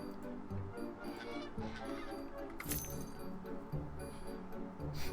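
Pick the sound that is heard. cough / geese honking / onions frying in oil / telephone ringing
geese honking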